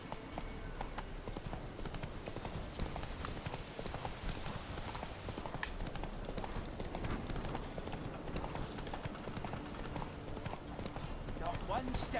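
Roach the horse's hooves clip-clop in The Witcher 3: Wild Hunt, a steady, continuous trotting beat mixed into dense game ambience, with voices talking over it.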